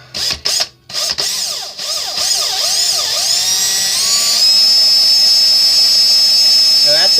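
A power drill spinning up to wind Clapton coil wire, a few short bursts followed by a rising, sustained high whine that steadies into a continuous loud tone, with brief speech-like sounds early on.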